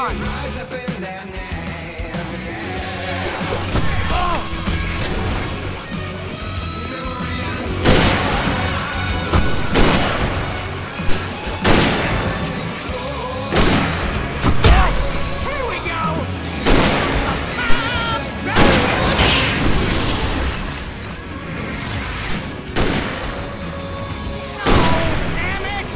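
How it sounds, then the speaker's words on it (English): Fireworks going off in the video game Alan Wake Remastered, a loud run of booming bursts and crackling blasts repeating over a dense background of game sound, with voices talking throughout. "I can set off more of the fireworks from here and help you out!"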